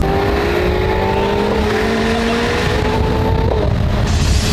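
A 765 sports car accelerating hard, its engine note climbing through the gears with a loud rising whine and a brief shift, heard close with a continuous roar throughout.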